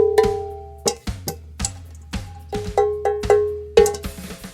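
A Tommy Lee cowbell struck repeatedly in a loose rhythm, each sharp metallic clank ringing briefly with clear overtones, about a dozen hits, close and loud with no voices.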